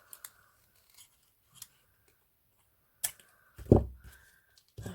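Scissors snip off excess ribbon while a boutique hair bow is being made: a few sharp, close cuts scattered across a quiet room, the loudest crunching snip near the end.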